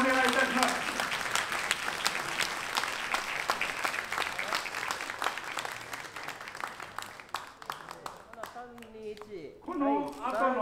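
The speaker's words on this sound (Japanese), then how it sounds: "盛大なる拍手をお願いいたします。" Crowd applause at the ceremony for a fully restored danjiri festival float in Matsubara, sustained, dense clapping that continues for several seconds before thinning out, with a voice over a loudspeaker near the end.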